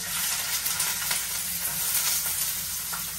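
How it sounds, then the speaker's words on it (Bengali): Chopped onion and green chili sizzle and crackle steadily in hot oil in a pan, a bright continuous frying hiss with small pops, close and alone. "দিয়ে দিয়েছি তেল, পেঁয়াজ কুচি আর কাঁচামরিচ দিয়ে দিলাম"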